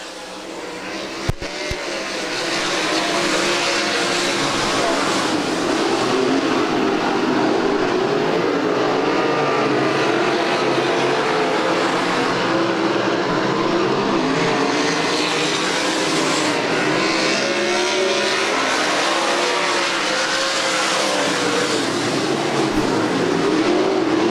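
ASCS Warrior sprint cars race around the dirt oval at Lucas Oil Speedway, a loud, continuous roar of several engines that builds after a brief quiet start and holds steady throughout.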